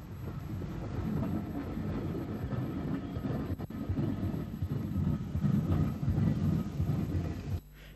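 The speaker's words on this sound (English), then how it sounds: "A J15-060 arrives at Dunleary with a train mostly made up of new coaches" A J15 steam tank locomotive arrives at Dun Laoghaire with a train, rumbling steadily at moderate distance, a continuous low roar of wheels and carriages with faint rhythmic clatter.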